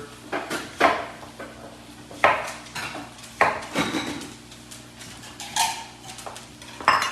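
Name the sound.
knife dicing apples on a cutting board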